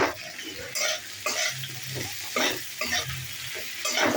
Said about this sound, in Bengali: একটু হলুদ দিয়ে নাড়িয়ে একটু পেঁয়াজ দেবো